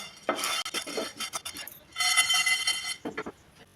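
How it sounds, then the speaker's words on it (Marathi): Chai masala spices including cardamom and dry ginger powder are dry-roasted in a pan, heard as bursts of gritty scraping and stirring against metal with short pauses between strokes. "हा मसाला पण चांगला गरम करून घेऊया"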